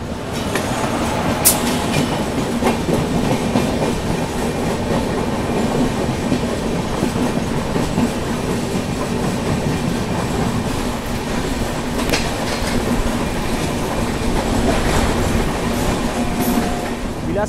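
Steady rumble and rhythmic clickety-clack of the Mumbai–Howrah Duronto Express running on the tracks near Raipur Junction, heard from inside a First AC coach as a continuous, even roar.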